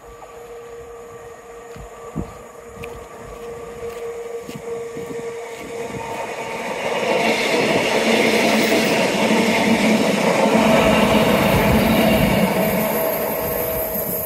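A train passes outdoors, starting as a low distant rumble and swelling into a loud, broad roar of wheels and wagons that stays steady before easing slightly at the end.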